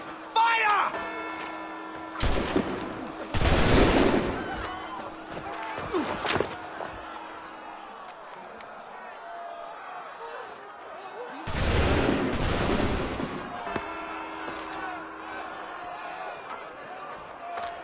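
Gunfire in Assassin's Creed 3 comes as loud volleys in bursts, with a long blast near the start and another midway. Game voices and ambience sit between the bursts.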